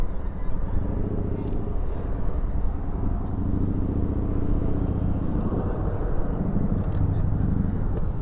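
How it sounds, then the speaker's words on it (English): A Boeing 737 arriving from Denver rolls out at night with spoilers up and thrust reversers deployed, a continuous loud jet roar and rumble at mid distance, steady throughout. "Spoilers up, reversers out on that 7-3 coming in from Denver."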